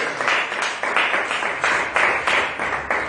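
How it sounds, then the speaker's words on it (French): A church congregation at a French-language service claps in unison, with sharp, regular beats of rhythmic applause repeating about every third of a second, carried over a steady crowd wash. "Est-ce qu'on peut donner une acclamation à notre Dieu?"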